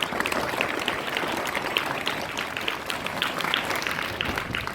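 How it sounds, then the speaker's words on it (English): Audience applause at a summer camp certificate ceremony as basketball coaches are called to the stage, a steady dense patter of many hands clapping continuously at moderate loudness throughout. "A big round of applause for her."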